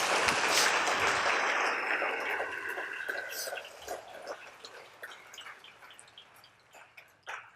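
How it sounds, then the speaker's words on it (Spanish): A church congregation applauds during a sermon; a dense burst of clapping starts loud and gradually thins into a few scattered claps as it dies away, with no talking over it. "Denle ese aplauso al Dios de los cielos."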